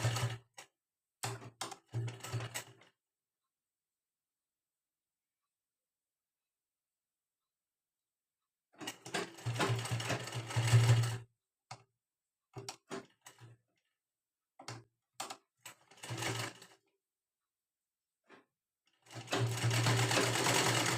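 A sewing machine sews a straight seam on an unlined princess-cut blouse in several close, loud bursts of fast rattling stitching, broken by stretches of complete silence.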